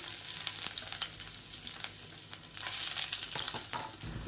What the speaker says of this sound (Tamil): பொடியாக நறுக்குன்னா பூண்டு சேர்த்துக்கலாம்.